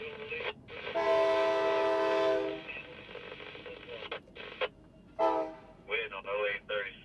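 A freight train with its engines running light rumbles in with a sustained horn blast, followed by short, crackly bursts of radio chatter.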